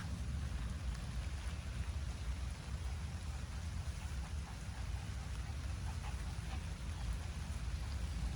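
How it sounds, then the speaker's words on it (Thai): Steady rain falls in a grape vineyard, a continuous soft hiss of drops with no clear pauses, fairly faint and even throughout. "ฝนตกในสวนองุ่น"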